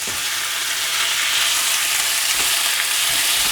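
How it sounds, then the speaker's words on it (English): Steady, loud sizzling of beef steak frying in a hot non-stick pan, a continuous crackling hiss with no talking. "As soon as it goes in the pan, it needs to be sizzling."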